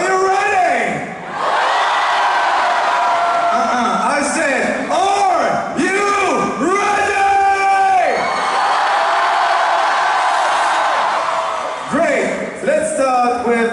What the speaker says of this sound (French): je vous demande de tous les encourager, de tous les applaudir